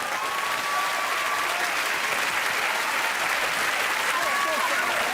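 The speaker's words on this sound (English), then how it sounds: "Round of applause." Studio audience at a British TV game show giving a steady round of applause, dense continuous clapping at full volume across the whole stretch with faint voices underneath.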